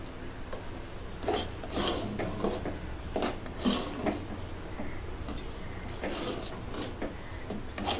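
Puran filling with dry ginger, fennel and cardamom powder being stirred in a pot, a steady run of scraping, clinking spoon strokes in an irregular rhythm, close and fairly loud, with no voice over it.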